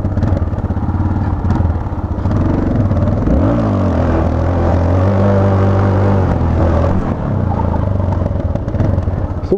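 A Yamaha XT660 single-cylinder motorcycle engine revs up and down, rising and falling in pitch through loud throaty bursts, heard close by.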